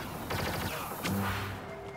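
A rapid burst of pulse cannon shots fires in Star Wars Battlefront on Jakku, a close, loud crackling volley followed by a heavier blast and a lingering tonal ring.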